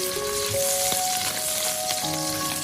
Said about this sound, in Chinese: 将五花肉倒入锅中，再快速的翻炒均匀，将五花肉里面的油脂给煸炒出来